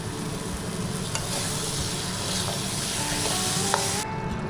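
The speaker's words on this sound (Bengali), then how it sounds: "আলুটাকে কষিয়ে তারপর দেওয়া হয়েছে" Potatoes sauté with spices in a pan, giving a constant hiss and crackle of hot oil with occasional soft scrapes of stirring, and no voices.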